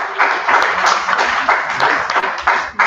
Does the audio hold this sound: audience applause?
yes